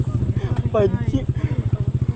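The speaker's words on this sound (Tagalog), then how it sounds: "All around pala motor ni Inipay." A motorcycle engine putters steadily with a pulsing rhythm, heard up close, with a voice speaking briefly over it.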